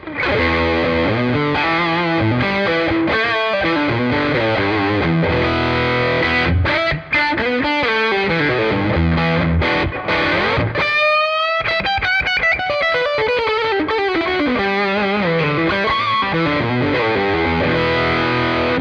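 An electric guitar plays chords and a riff through a Tonex pedal at its highest gain setting, heavily saturated overdrive, loud and continuous, with a bending lead phrase partway through.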